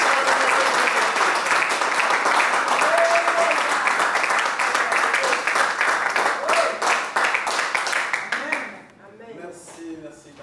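A church congregation gives a long burst of loud, dense applause with cheering voices. It fades out near the end, where a single voice is left speaking alone.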